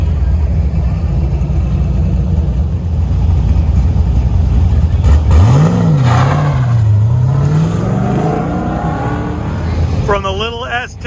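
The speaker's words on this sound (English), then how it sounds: "From Mark in the LT4 powered Camaro, we got the little S10 with the LSX under that hood." An LSX-powered Chevrolet S10 with Corvette wheels and brakes runs the autocross course at the Goodguys Southwest Nationals in Scottsdale, its engine revving up and down loud and near amid crowd noise and talk.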